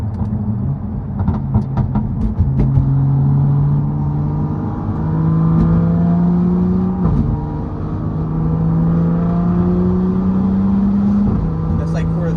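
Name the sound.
BMW F82 M4 exhaust at quarter throttle with M4 muffler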